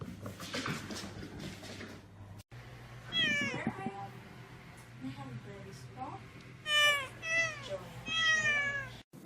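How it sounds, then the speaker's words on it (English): A cat outdoors gives several rising and falling meows, clearest near the end, while people talk and react nearby. "Oh my god, it's a cat out there."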